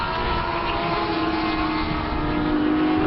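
Yamaha YZF R1 endurance-spec racing motorcycle on circuit at Anglesey, a steady loud engine drone held throughout with a faint rising whine, no voices.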